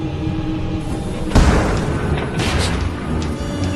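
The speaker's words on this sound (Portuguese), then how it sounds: "Alguma coisa explodiu?" A dramatized explosion aboard the JAL 123 airliner hits as one sudden loud boom over a steady cabin hum, then trails off into a rumbling wash of noise.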